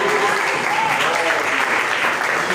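A church youth service congregation applauds together, a dense, continuous clatter of many hands clapping that fills the room, with voices calling out beneath it.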